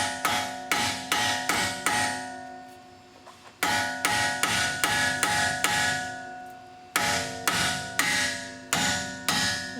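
Sharp metallic strikes of a brass hammer on a Lexus RX350 CV axle castle nut ring out in quick bursts of two or three, with a short pause midway, each hit leaving a bright ringing tail.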